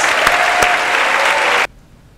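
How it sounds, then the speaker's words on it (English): A live audience at a motivational talk gives a loud, dense round of applause lasting about a second and a half, then stops abruptly into quiet. "Give them a nice round of applause."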